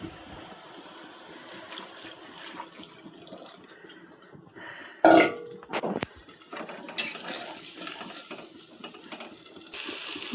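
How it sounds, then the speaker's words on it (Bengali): Boiling water poured into a pan of curry: a quiet simmer, then a sudden loud splash and hiss, followed by steady rushing, bubbling noise. "এবার ফুটন্ত পানি দিয়ে দিই।"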